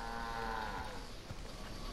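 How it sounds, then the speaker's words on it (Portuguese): Cattle mooing in a video game set in ancient Egypt, a drawn-out low moo heard faintly over quiet ambient game sound. "Ih, eu gosto mesmo destas vacas."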